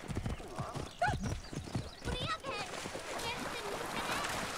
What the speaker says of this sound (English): we're about to get the horse